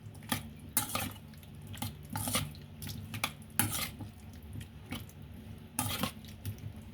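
A cucumber salad with black fungus being stirred in a bowl, soft intermittent clinks and scrapes of a utensil against the dish in short bursts, close and fairly quiet.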